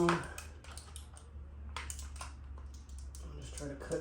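Scissors or a blade snip and crunch through material for a sub-irrigated planter build in short, close cuts, while a person talks quietly in between.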